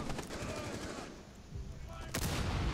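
Rapid bursts of gunfire in a Rainbow Six Siege team deathmatch bomb round on the Oregon map, dense and continuous at close range, fading briefly and then returning with a loud volley.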